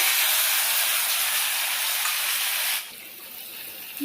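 Mustard and poppy seed paste sizzles in a hot pan, a loud steady frying hiss that drops off sharply near the end, leaving a quieter sputter.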